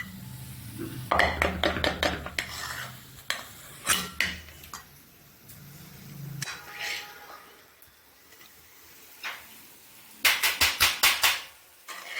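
Coconut sweet mixture scraped out of a pan onto a plate, with bursts of rapid metallic scraping and clanking of a utensil against cookware, separated by quieter pauses.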